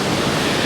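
Surf rolls in on the Paphos coast of Cyprus, a loud, continuous broadband wash of breaking waves close by, filling the brief moment without pause.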